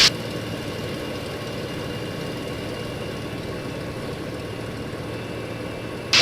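A P-51 Mustang piston engine throttled back on short final, a steady low rumbling drone held evenly and fairly loud throughout, with no voices.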